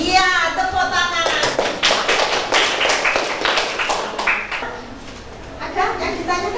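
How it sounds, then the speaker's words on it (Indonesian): A school class in Indonesia claps hands together in a classroom, a burst of quick, close claps mixed with children's voices, tapering off before a few more claps near the end. "Iya, tepuk tangan."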